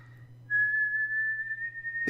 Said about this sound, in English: The kettle began to whistle loudly.